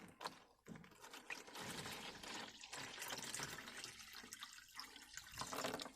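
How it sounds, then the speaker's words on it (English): Warm water pours steadily into a container for several seconds, a close, continuous splashing fill with gurgling and small clatters and no voices. "get some really nice warm water, put it in here"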